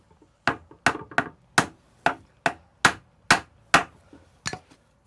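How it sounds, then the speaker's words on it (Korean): Wooden pegs are hammered into the joint of a traditional Korean A-frame carrier, about a dozen sharp, close knocks in a quick uneven rhythm, each ringing briefly before the next blow. "세장을 끼운 홈이 헐겁지 않게 틈새에 나무 못을 박아 놓는다"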